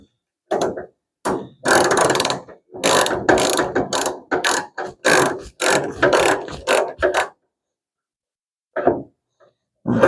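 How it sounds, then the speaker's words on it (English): A hand ratchet tightens a stud up inside the fender of a 1975 Hemi Plymouth Duster: loud, close bursts of rapid clicking, repeated stroke after stroke, then a pause and one or two last short clicks. "It has to be tightened way up there in the fender."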